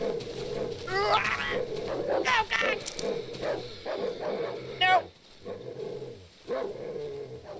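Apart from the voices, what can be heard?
dog barking in the video game Darkwood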